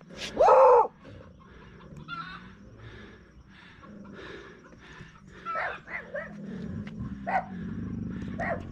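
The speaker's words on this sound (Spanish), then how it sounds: "Perros." Dogs bark repeatedly along a climb at Chuscal, one loud bark up close at the start, then a string of fainter barks and yips at varying distances, with fowl-like calls mixed in.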